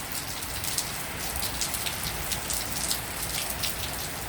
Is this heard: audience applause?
no